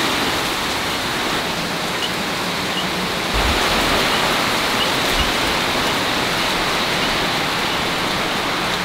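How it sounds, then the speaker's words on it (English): Heavy rain pours down in a dense, steady roar of broadband hiss, loud and constant throughout with no talking. "It is pouring."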